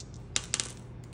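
Two dice rolled onto a hard surface give a few quick sharp clicks and clatters within about a second, close and fairly quiet.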